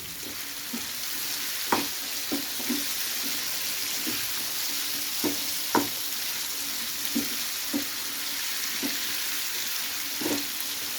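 Mutton liver (kaleji) fries on a tawa, a continuous sizzle with a series of sharp scraping and stirring clacks scattered at irregular intervals, close and fairly loud, with no talking.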